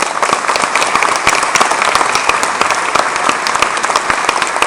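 Dense, sustained applause from the audience at a municipal New Year's greetings ceremony in Aulnay-sous-Bois, a steady wash of many hands clapping at close range for the whole stretch.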